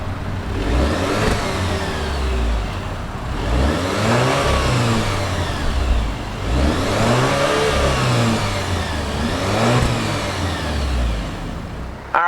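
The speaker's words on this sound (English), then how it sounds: "Let's go ahead and fire up this inline-4 turbocharged engine." A 2019 Alfa Romeo Stelvio turbocharged inline-four engine turns over and revs repeatedly, rising and falling in several strong, close-up bursts with a steady idle between.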